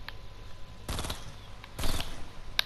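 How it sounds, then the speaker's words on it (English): Dual-wielded shotguns fired in Fortnite, two short, loud blasts spaced about a second apart against a quiet background, with a small click near the end. "There we are, double dual wield shotgun."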